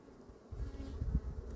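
Honey bees hum steadily around an open hive frame of brood being lifted from the brood box, a soft, close, continuous buzz that swells slightly partway through.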